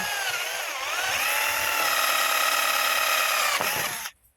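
A power drill bores holes in a chili planting bed covered with plastic sheeting, whining steadily and loudly for about four seconds before cutting off abruptly.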